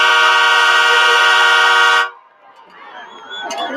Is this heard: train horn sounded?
yes